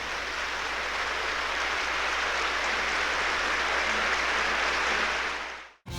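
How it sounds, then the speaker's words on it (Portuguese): A church congregation applauds loudly and steadily for nearly six seconds, a dense wash of clapping that cuts off abruptly at the end. "Pode aplaudir, mas então aplaude forte."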